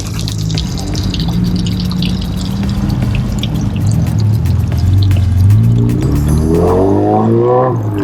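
Water pours and drips from a street fountain in Tbilisi, Georgia, a steady splashing trickle with rising tonal gurgles as the flow shifts, close and fairly loud.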